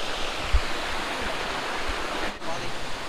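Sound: waterfall at Temple Falls

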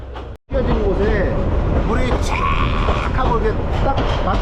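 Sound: Dalat tourist tram train running on the tracks

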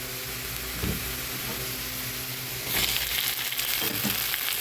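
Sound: jute leaves and onions frying

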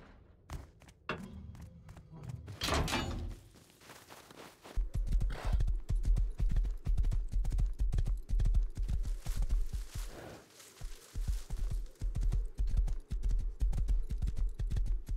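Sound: horse hooves clip-clopping in the video game Rust

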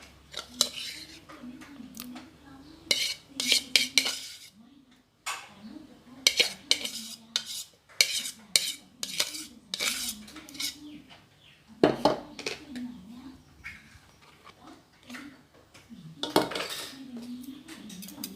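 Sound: hand whisk beating softened salted butter in a bowl

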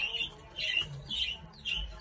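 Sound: pigeon

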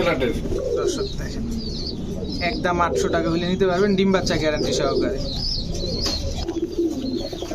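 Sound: fancy pigeons cooing

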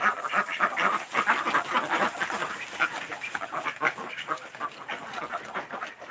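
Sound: white duck quacking

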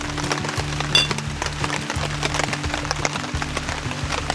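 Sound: rain falling outdoors

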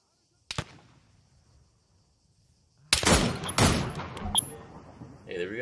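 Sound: gunfire from a video game (Arma 3 Antistasi)

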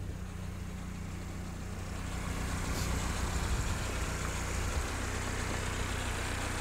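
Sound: 77-year-old Willys jeep engine idling

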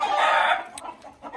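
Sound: roosters crowing and clucking

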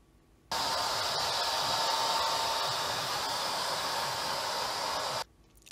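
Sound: hair dryer drying hair

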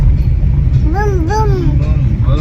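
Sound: child imitating a car sound

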